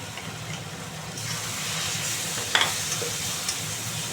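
Spices with coriander powder sautéing in a pan for a mushroom curry, a constant sizzling hiss with scraping stirs and a couple of sharp clinks of the spatula near the middle.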